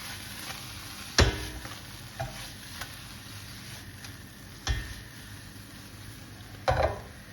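Mushrooms for a vegan pasta fry quietly in a heavy frying pan, with a steady low sizzle broken by a few sharp scrapes and knocks as they are stirred.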